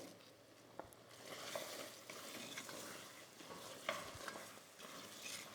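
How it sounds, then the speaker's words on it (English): Apples being stirred into a sugar sauce in a pot for apple pie filling: soft wet sizzling under repeated spoon scrapes and occasional light clinks against the pot, close but quiet, with no voices. "give it a stir."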